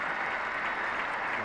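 A packed cricket crowd at Lord's applauds a big shot during the Lancashire v Warwickshire Gillette Cup final, a continuous, even wash of distant clapping throughout.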